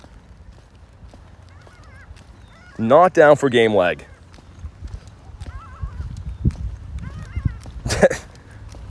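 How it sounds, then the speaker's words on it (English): Birds, likely seagulls circling overhead, let out a few honking, squawking calls in short bursts, while someone talks between them. "Birds making some funny noises."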